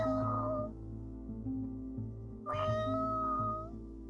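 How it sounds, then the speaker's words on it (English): A thin tabby cat meows twice, close and clear, with about two seconds between the calls, over a low steady hum. "She meows when she wants to go out."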